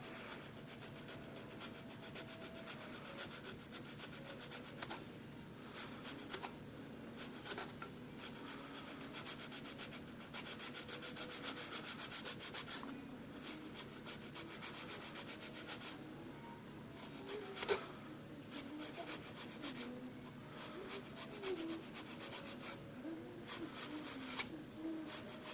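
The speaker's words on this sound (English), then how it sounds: "I'll just take my round file and I'll just lay it right up on it" A round file rasps against a windshield wiper detail on a model, in repeated quiet back-and-forth strokes with a dry scraping texture, close and faint, with no talk.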